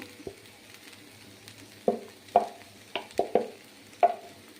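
Flattened rice (chira) stirred and fried in a pan, with a faint background sizzle broken by several sharp scraping strokes of a spatula in an irregular rhythm.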